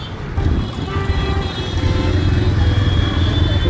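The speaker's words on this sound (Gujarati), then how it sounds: "ટ્રાફિક છે રાધનપુરમાં મિત્રો" Road traffic rumbles close by in Radhanpur, engines droning and passing vehicles humming steadily, with a faint horn-like tone in the mix.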